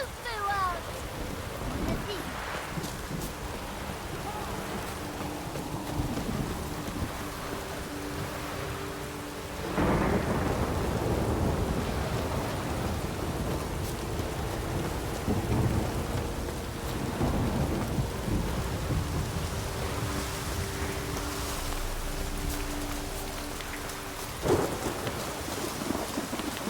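A thunderstorm with steady rain in The Witcher 3: Blood and Wine, rain hissing throughout while thunder rumbles and cracks several times, with game music and voices underneath.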